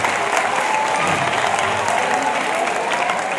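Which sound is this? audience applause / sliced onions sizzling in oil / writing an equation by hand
audience applause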